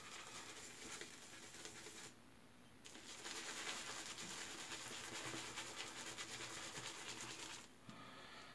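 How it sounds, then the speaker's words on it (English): Shaving brush being loaded on lavender shaving soap, a steady close scrubbing and swirling rasp with brief pauses, soft and continuous throughout. "So we'll get the brush loaded here."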